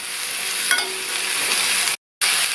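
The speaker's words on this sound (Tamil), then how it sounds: "சேர்த்துட்டு 1 நிமிஷம் போல் நல்லா இந்த எண்ணெயிலேயே வதக்கி விட்டுக்கணும்." Cut ash gourd pieces sautéing in hot oil in a pan, a steady loud sizzle with stirring scrapes throughout, briefly cutting out near the end before resuming.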